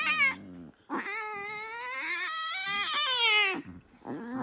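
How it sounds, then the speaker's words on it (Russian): Hungry jaguar cubs cry in loud, drawn-out wailing yowls much like fighting cats, three close calls with brief pauses between them, the middle one long and rising. "Крик разъяренного, голодного"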